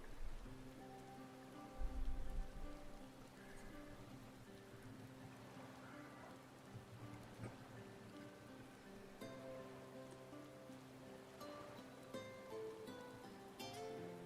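Steady rain falls in the Final Fantasy XIV game world, a soft continuous patter with scattered droplet ticks beneath a gentle tonal music bed, at low level throughout.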